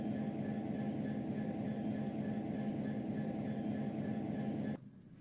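An Amtrak train in the Trainz 12 railway simulator gives off a steady, even rumble and hum that cuts off abruptly near the end.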